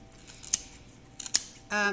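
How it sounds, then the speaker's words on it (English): Two quick, sharp snips of scissors cutting yarn wrapped on a pom-pom making tool, spaced about a second apart, followed by a brief rustle at the end. "we're actually going to cut all of the yarn."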